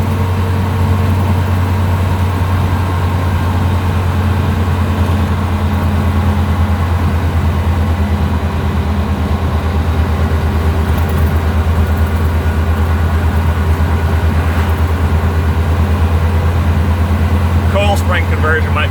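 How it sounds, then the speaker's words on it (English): An 80 hp Suzuki Samurai swapped with a 1.6 8-valve Geo Tracker engine drives along with a steady, deep engine drone and road rumble that stays loud and unbroken throughout. "The Samurai is not the smoothest riding vehicle."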